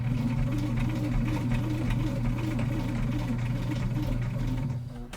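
Sewing machine running steadily as it bastes around the fabric of a water bottle sling, a continuous close mechanical hum with rapid stitching pulses, slowing at the very end.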